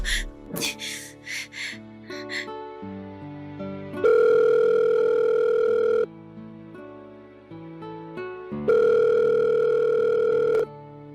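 A cellphone ringtone plays in a Filipino radio drama, coming as two loud, sustained electronic tones, each lasting about two seconds, after a short run of stepping beeps, with no talking.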